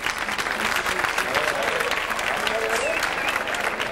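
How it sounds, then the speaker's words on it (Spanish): A large audience at a Spanish carnival evening gala applauds loudly and continuously, a dense roar of clapping filling the room with a few voices rising over it. "Un fuerte aplauso para ustedes mismos"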